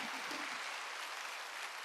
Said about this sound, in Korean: 박수 치라 이게야. 박수 치라.